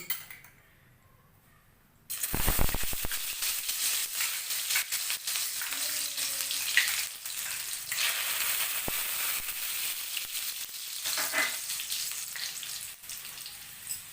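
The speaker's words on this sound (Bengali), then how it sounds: "এবার ওই তেলে একে একে আমরা মশলাগুলো ছাড়বো। আমি এখানে প্রথমে দিয়ে দিচ্ছি কিছু রসুন কুচি" Chopped garlic drops into hot oil in a pan for chilli fish, and a loud, steady sizzle breaks out after a quiet start, continuing with a few stirring clinks and crackles throughout.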